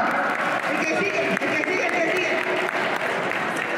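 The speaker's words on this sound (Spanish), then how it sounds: "¡Bravo! ¡Un aplauso!" An audience at a Christian education congress workshop applauds, a dense, continuous burst of clapping held at steady loudness, with some voices mixed in.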